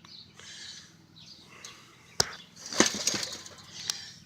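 Young farm birds flap their wings in short flurries with a few soft chirps, several sharp fluttering bursts standing out from a quiet outdoor background near the listener.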